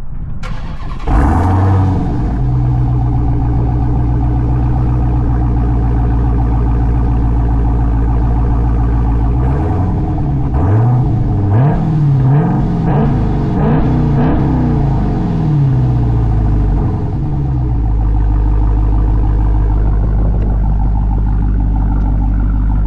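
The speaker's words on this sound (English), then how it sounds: "We should start it up so you can hear this exhaust." A Dodge Hellcat V8 starts with a sharp crank and bark, then settles into a deep, loud idle with bursts of revving in the middle before dropping back to a steady rumble.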